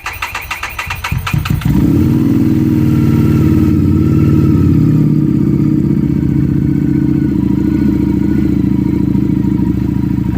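A Harley-Davidson motorcycle left unused for a year cranks with a rapid clattering starter, then catches and settles into a loud, close, steady idle rumble that holds throughout.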